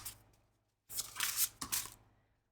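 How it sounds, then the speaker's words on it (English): A deck of oracle cards is shuffled in one brisk riffle of crisp, papery flutter and snapping, close and loud, after a quiet pause. "let me shuffle again, and then I'll split the deck."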